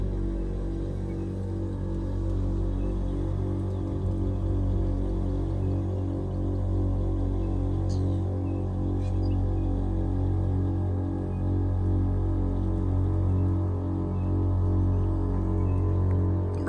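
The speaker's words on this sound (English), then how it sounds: "turn it on for the first test and make sure it gets up to pressure" A VIAIR Road Warrior onboard air compressor on a converted RV runs steadily toward its 200 psi target, giving a continuous rhythmic throbbing hum with no talk over it.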